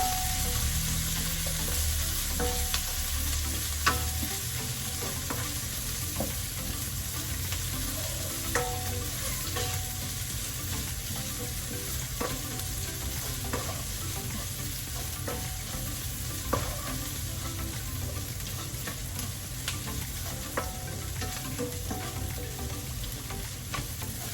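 Garlic and onions sautéing in a pan, a continuous close crackling sizzle with frequent scraping stirs and clicks of a utensil, steady throughout with no talking.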